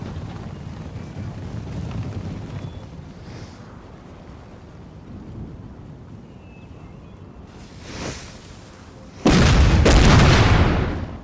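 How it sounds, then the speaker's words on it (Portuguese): Cannon fire strikes in Napoleon: Total War, with a steady rumbling battle din building to a sharp impact near eight seconds and then a loud, sustained blast of booming fire at the end. "Tem disparo pegando ali no morrinho."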